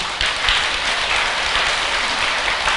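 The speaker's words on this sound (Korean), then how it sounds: "합창단에도 박수 한번 보내시고," Temple congregation at a monthly Buddhist dharma service clapping for the choir, a full, steady round of applause that holds at a constant level without voices.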